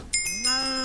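A cow placed in a jar in the Minecraft video game gives a single short, tonal low moo, close and clear, with a brief bright chime just before it.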